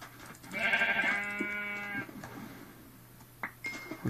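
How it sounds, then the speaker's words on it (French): Sheep in the video game Minecraft, a single loud, clear bleat lasting about a second and a half, followed by quieter game clicks and soft ambient sounds. "Je vais essayer de tuer les trois moutons qu'il y a ici,"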